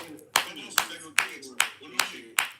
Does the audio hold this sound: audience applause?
yes